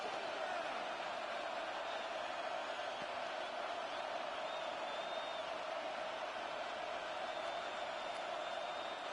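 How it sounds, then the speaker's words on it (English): A stadium crowd in the Madden 26 football game roars steadily during a Commanders versus Bengals matchup, a dense, constant wash of cheering at moderate level with no distinct breaks. "This crowd turning up the decibel level."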